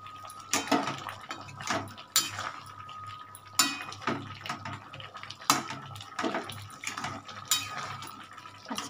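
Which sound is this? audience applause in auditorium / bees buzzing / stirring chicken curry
stirring chicken curry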